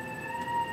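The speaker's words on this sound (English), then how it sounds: "That stupid siren, shut up." A siren wails in Xenosaga, a steady electronic tone holding at an even pitch for under a second, fairly quiet and heard alone.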